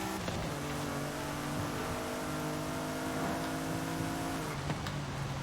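A Jaguar XJ220 S TWR supercar engine in Forza Horizon 5, a steady, close droning hum with strong tonal harmonics, holding an even pitch with slight shifts and no talk over it.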